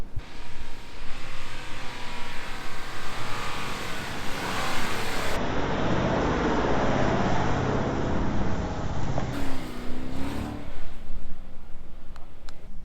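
A 4WD vehicle in low range, second gear, revs hard up a sandy beach exit, the engine close and loud, surging and straining with rising and falling pitch.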